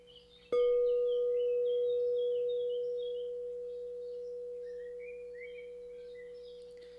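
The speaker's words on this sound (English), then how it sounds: "I will help with more chakra tones." A chakra healing tone starts with a soft strike and then holds as one steady pure note that slowly fades, with faint bird chirps in the background.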